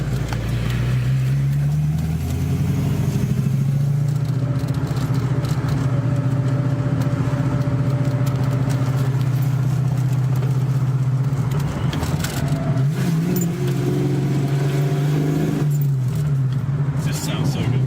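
A car engine with a short shifter idles and revs after being shifted into first gear, a loud steady rumble with rising and falling pitch, rattly mechanical noise over it.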